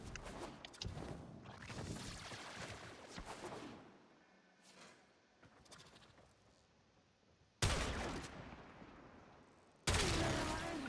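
Video game gunfire from Primed Chamber weapon testing: a stretch of mixed shots and impact noise, then two loud, separate shots near the end, each following a quieter lull.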